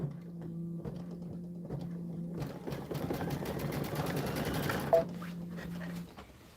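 A Brother embroidery machine stitches a built-in quilting design, with a steady motor hum and then a rapid, fairly quiet mechanical chatter of needle strokes for a few seconds before it settles back to a hum.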